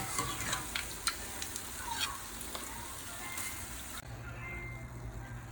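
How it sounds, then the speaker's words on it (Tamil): Boondi, small gram flour drops for laddu, frying in hot oil, a faint bubbling sizzle with light clinks in the first seconds, then a quieter steady hum. "பாருங்கள், பூந்தி நல்லா வந்து பொரிஞ்சு வந்திருக்கு"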